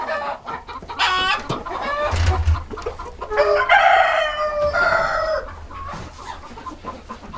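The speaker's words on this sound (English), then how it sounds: "you can see I got a bunch of chickens" Backyard chickens cluck and squawk close by while a rooster lets out a loud, drawn-out crow in the middle, the flock's chatter continuing around it.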